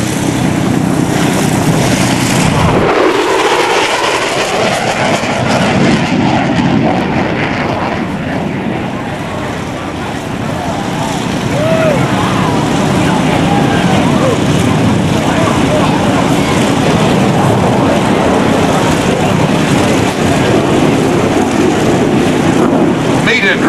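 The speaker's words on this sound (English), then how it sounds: "Direct your attention to the right as the Super Hornet approaches," An F/A-18F Super Hornet at a 2004 NAS Oceana airshow roars steadily as it approaches and accelerates, a broad, loud jet rumble with wind buffeting the microphone and crowd or announcer talk mixed in.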